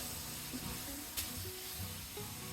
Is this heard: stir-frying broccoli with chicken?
yes